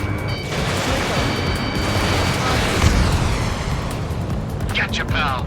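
Explosions from a missile hit roar through Ace Combat 7, a dense, loud, sustained rumble layered with jet and combat noise. Chirping warning tones sound near the start and end.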